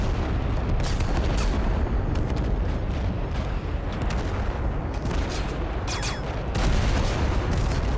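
Dense, continuous gunfire and booming explosions fill a battle in the video game Total Conflict: Resistance, loud and unbroken throughout.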